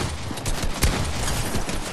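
Rapid shotgun fire in Fortnite, a dense run of loud repeated blasts and crackles packed closely together, with no pause across the two seconds.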